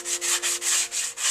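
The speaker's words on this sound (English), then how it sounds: "take something like a sanding sponge or just sandpaper" Rhythmic scratchy sanding with a sponge on a paper hidden blade replica, several back-and-forth strokes in steady succession, close and fairly loud with no talking.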